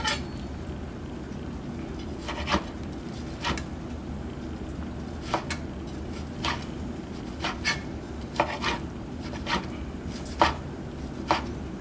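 A knife slices a cooked piece of beef in half against the grain, producing a steady run of crisp, close chopping taps on a cutting board that repeats at an irregular rhythm.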